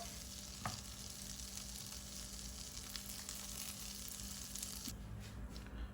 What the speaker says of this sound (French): j'essaie de les retourner pour faire dorer les deux côtés